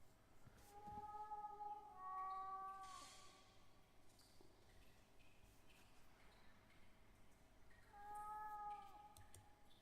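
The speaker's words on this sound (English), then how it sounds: "What is that noise? Is that a cat? Is there a cat down here?" A cat meows several times in the horror game The Last Door, with a couple of drawn-out, wavering cries near the start and another near the end over a quiet, dark ambient background.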